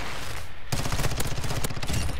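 Loud, fast gunfire bursts in a shooter video game, starting abruptly after a brief quieter moment and continuing in rapid succession.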